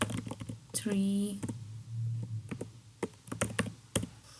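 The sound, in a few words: typing on a computer keyboard in R tutorial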